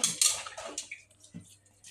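Water sloshes and splashes in short bursts as something is rinsed by hand in a bowl, close and fairly quiet.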